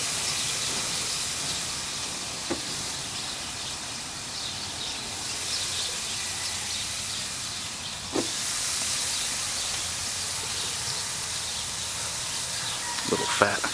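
Beef top sirloin steak sizzles on a barbecue grill with a constant broadband hiss that holds through the whole stretch, plus a few faint clicks and light background noise.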